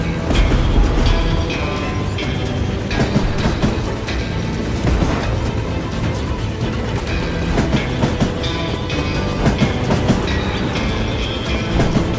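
A train rolls along the tracks in the Western shooter Call of Juarez Gunslinger: a dense, steady rumble with rhythmic clickety-clack wheel beats and occasional metallic rattles, loud and continuous throughout.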